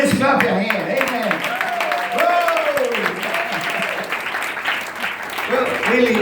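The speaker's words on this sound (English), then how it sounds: "If he's alive, let's clap your hand." An audience claps hands at a lively gathering. The steady, fairly loud applause runs under a loud voice that speaks or chants over it throughout.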